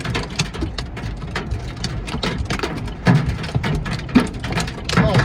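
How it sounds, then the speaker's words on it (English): Large, damaging hailstones pound down during a microburst storm in Edinburgh, Indiana, a dense clattering roar of sharp cracks and knocks with heavier thumps standing out, close and loud throughout. "Oh, this is damaging hail."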